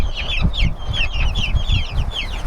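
A group of young chicks cluck and chirp in quick, repeated bursts, close by and fairly loud, with low shuffling noise underneath.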